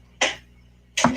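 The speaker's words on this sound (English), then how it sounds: "with the drawer opening up for the first time?" Two quick sliding clunks of a new air fryer's drawer being pulled open for the first time, the second ending in a soft thud, close and clear with silence between.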